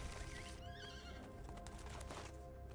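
A horse neighs in the MTG Arena card game, a loud high whinny with a rising, wavering pitch over a dense game music bed, with clip-clop hoof sounds mixed in.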